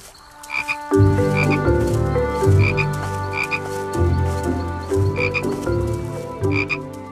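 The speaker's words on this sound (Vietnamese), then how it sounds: "Lũ ếch thật là ầm ĩ" A chorus of frogs croaks loudly and continuously, deep repeated calls overlapping with higher chirps, close by and with no talking.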